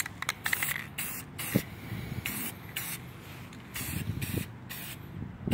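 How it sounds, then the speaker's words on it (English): Repeated hissing blasts from a spray can, some short and some longer, close by, with faint handling scrapes between bursts. "I'm simply spraying it."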